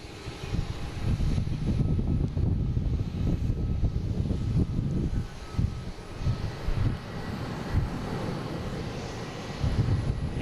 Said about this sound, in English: we got a Praetor 500 coming in from Salt Lake City